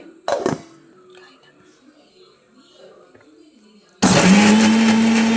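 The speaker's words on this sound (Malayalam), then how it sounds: "നമുക്കിതൊന്ന് അരച്ചെടുക്കാം." A mixer grinder whirs loudly to life, grinding sour Moovanda mango chutney with kanthari chillies, shallots and salt; it starts abruptly after a quiet stretch with a few soft clatters and runs steady and close.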